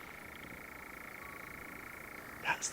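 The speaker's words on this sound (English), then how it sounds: "That's the sound of a nightjar." Nightjar churring at night on Breckland heath, a continuous faint mechanical trill held steadily throughout, heard from a distance with a few brief chirps near the end.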